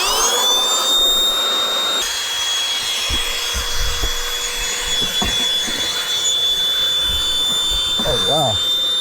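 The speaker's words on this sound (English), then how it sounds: "let's go ahead and stick that in and pump the mattress" Electric air pump inflating an air mattress inside a 2026 Tesla Model Y, a steady loud whine and hum running throughout with occasional knocks and a voice briefly heard.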